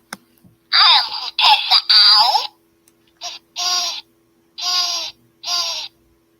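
A plush toy owl that once belonged to the owner's mother gives off an electronic voice, several short bursts of babbling, chattering sounds with brief pauses between them, close and fairly loud.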